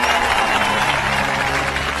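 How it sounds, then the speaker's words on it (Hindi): Applause from a crowd in a Hindi-dubbed South Indian action film scene during a speech about farmers: dense, steady clapping that holds at an even, fairly loud level for the whole moment. "ताली बजाओ"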